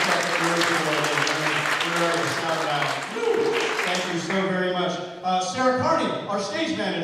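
Audience applause at a vaudeville stage show, broad clapping under a loud voice speaking, the clapping thinning out as the talking continues toward the end.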